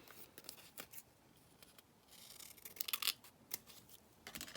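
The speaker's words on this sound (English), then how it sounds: "Let me just trim this down a minute, because it's probably a little bit too big at the moment" Scissors snip through a piece of card blank, a quick run of crisp close cuts in uneven rhythm, with a brief flurry of sharper snips in the middle.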